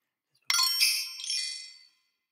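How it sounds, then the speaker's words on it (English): A side stick and a bell tree played together in Bounce Metronome software: one sharp tap followed by a bright cascading shimmer of bell tones that rings and decays over about a second and a half, clean and alone. "We should hear a side stick and a bell tree played together."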